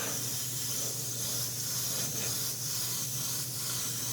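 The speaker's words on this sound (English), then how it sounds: "I was worried that I wouldn't be able to get into certain areas with the airbrush" An airbrush sprays paint onto a model figure, a steady close hiss that runs unbroken throughout with faint pulsing, no voices present.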